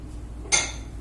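A single faint clink of a utensil against a dish while semolina (suji) halwa is served out, followed by a softer tap in an otherwise quiet kitchen.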